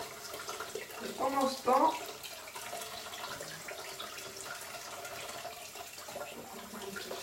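Tap water running steadily into a sink at home, a soft continuous wash under a man's brief speech, fairly faint throughout.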